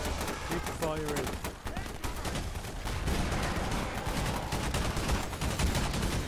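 Sustained, dense gunfire fills a Half-Life battle against a boss, a loud unbroken barrage of shots and blasts with voices faintly mixed in underneath.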